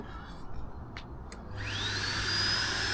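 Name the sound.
vacuum cleaner powered by Bluetti AC70 battery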